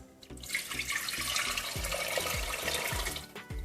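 Water pours steadily into a pot for chicken corn soup, a continuous splashing rush with some clinks and knocks of cookware in the background.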